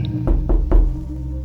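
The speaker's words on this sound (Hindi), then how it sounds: "हमारे बरामदे के दरवाज़े पर किसी ने दस्तक दी।" Three firm knocks on a veranda door at night sound in a steady sequence, heavy and close, with a low hum lingering underneath, as a horror story effect.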